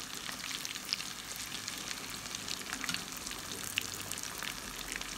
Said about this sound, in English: And we're going to leave them fry up.